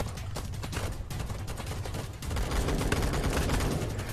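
Gunfire in the Roblox game Blackhawk Rescue Mission 5, with rapid overlapping shots forming a dense, continuous barrage that gets louder partway through.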